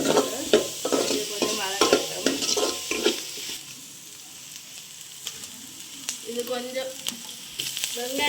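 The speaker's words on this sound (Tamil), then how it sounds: "இஞ்சி பேஸ்ட் போட்டுட்டேன் இதை வதக்குவோம் நல்லா" Ginger paste sautés in a hot pan for a Sri Lankan kottu roti, with a steady sizzle under repeated scraping and stirring clatter from a utensil against the metal pan.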